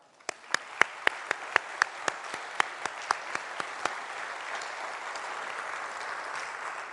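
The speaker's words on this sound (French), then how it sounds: "Une bonne main d'applaudissements." A graduation ceremony audience applauds, starting with a dozen sharp, distinct claps that soon blend into a steady, moderately distant wash of clapping that fades gradually.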